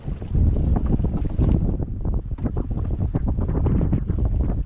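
Strong wind buffets a fishing boat out at sea, roaring loud and continuous across the microphone with gusty surges and no voices.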